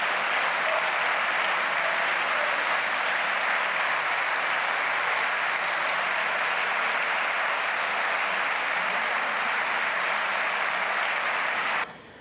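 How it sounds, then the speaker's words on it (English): Massive audience applause fills a session of the Spanish parliament, a dense, steady wash of clapping from a large crowd that holds evenly for about twelve seconds and then cuts off sharply. "Massive applause in the audience in the Spanish parliament"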